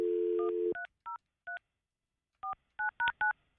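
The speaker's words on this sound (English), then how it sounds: "You can't even dial the phone." Touch-tone telephone dialing: a dial tone cuts off, then a string of short, clean beeps follows in two uneven bursts, clear and close with no voices.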